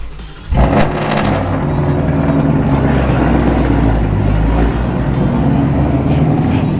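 A Can-Am Maverick X3 side-by-side, a 230-horsepower build, cold-starts close by and settles into a loud, steady, rumbling idle that fills the whole stretch.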